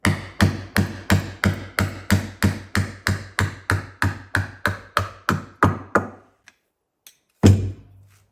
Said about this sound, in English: We'll go ahead and drive it back out one more time